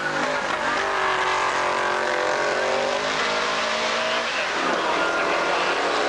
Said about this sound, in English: Second lap, and here comes David Ellis.